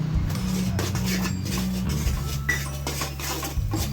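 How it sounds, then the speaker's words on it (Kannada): Grated coconut and cardamom being stirred in a bowl, with continuous scraping and clinking of a spoon against the bowl over a low background hum, close and moderately loud. "ಹಾಕಿ ಮಿಕ್ಸ್ ಮಾಡಿಕೊಳ್ಬೇಕು. ಚೆನ್ನಾಗಿ ಮಿಕ್ಸ್ ಮಾಡ್ಕೊಳ್ಬೇಕು."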